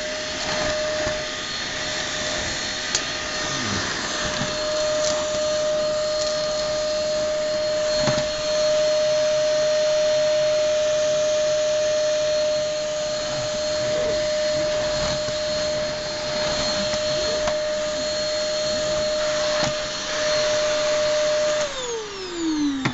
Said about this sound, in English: Here is a Vitronic VTC B01 cylinder vacuum.